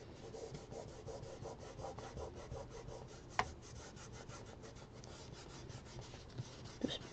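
Crayon rubbing back and forth on paper to blend colour, a faint, close, rhythmic scratchy rasp with a couple of small taps.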